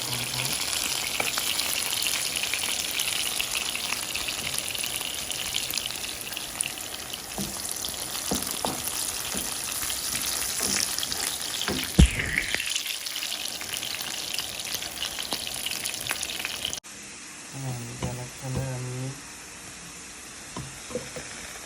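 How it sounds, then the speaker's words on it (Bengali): Onions fry with bay leaf, cardamom and cinnamon in a pan, a continuous dense sizzle with occasional stirring knocks that quiets abruptly near the end, leaving softer frying. "পেঁয়াজটা দশ মিনিট ফ্রাই করার পরে এখন এখানে আমি তেজপাতা এলাচি দারচিনি"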